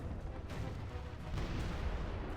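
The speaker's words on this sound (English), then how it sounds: "the siege towers are possibly just going to be destroyed by the cannons" Cannon towers firing on advancing siege towers during a Warcraft Total War battle with the Scourge faction at Echo Isles: dense, continuous battle din with repeated booming shots, loud and steady throughout, no talking.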